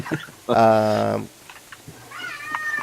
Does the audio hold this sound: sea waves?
no